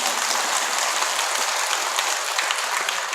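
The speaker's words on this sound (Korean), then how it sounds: "맞으면 박수 크게 쳐야 되는 거야." A temple audience at a Buddhist dharma talk at Jogyesa bursts into loud, dense applause that fills the room steadily from start to finish, with no voices over it.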